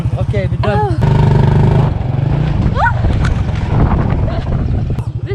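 Motorbike riding along a narrow dirt walking path in Vang Vieng, Laos, its engine buzzing loudly and continuously up close, with excited voices talking over it.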